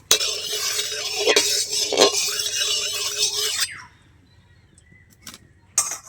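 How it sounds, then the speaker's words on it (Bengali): Mustard oil heating in a wok for a pomfret fish curry, stirred with a utensil: a bright hiss with scraping strokes for several seconds, then near silence apart from a faint clink. "তার জন্য একটু নেড়ে দেবো তেলটা।"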